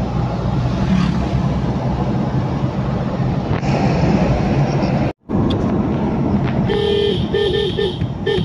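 A car horn honks repeatedly in short bursts over loud, rumbling traffic noise, close by, with a brief dropout partway through.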